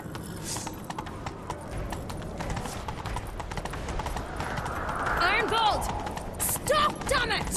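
In The Witcher 3 game, horses gallop during a chase, steady rhythmic hoofbeats running under shouted dialogue, with louder clattering strides and a whinny near the end.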